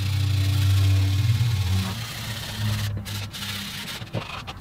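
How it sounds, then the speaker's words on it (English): Hand sanding of cherry wood for a picture frame with a sanding block, a steady close rubbing scrape that carries through the clip under a low background hum, fading near the end. "a little bit of hand sanding just to make sure everything is nice and smooth"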